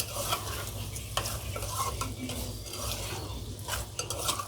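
Masala for a liver curry frying in a pan while a spatula stirs it, soft sizzling under repeated scraping and clattering strokes against the metal, close and moderately quiet.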